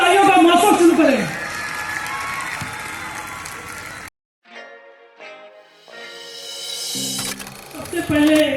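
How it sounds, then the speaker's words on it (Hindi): A festival crowd at a comedy show applauds and cheers loudly, then a sudden cut drops to near silence before clapping and noise build back up, mixed with voices. "जरा एक बार आगे से पीछे दाएं से बाएं जोरदार तालियों का मौसम शुरू करें।"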